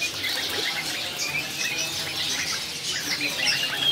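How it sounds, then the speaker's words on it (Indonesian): Sooty-headed bulbuls (kutilang) at a bird market give bright, overlapping high chirps and twitters, continuous and moderately near among other market birds, with faint sounds beneath. "Sini juga ada kutilang ya."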